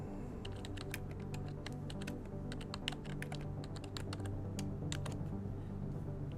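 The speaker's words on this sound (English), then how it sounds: "So we can type whatever we want." Rapid, irregular keystrokes on a computer keyboard, entering a team name and description for a racing team, clicking steadily and close over a low room hum with no voices.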